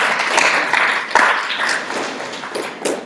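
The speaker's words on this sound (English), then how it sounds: "Give yourselves a round of applause" A seated workshop audience at a training institute breaks into sustained applause, many hands clapping at close range in a dense, steady patter with no talk over it.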